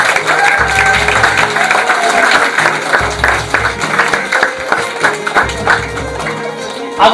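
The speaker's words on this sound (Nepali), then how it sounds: "वरियहरूलाई एकचोटि जोरदार तालीको साथ आग्रह गराउँछु" A hall audience at a felicitation programme claps steadily as honorees are called to the stage. The applause is dense and sustained across the whole stretch, with a voice over a loudspeaker running beneath it.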